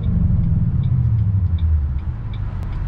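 A Ford Mustang Roush Stage 3 Blackjack Edition engine rumbles low and throaty at close range, a steady deep drone with slight swells and no talking.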